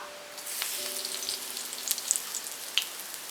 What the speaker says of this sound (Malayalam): ഇനി ഇതിനകത്തോട്ട് കറിവേപ്പില ചേർത്ത് കൊടുക്കാം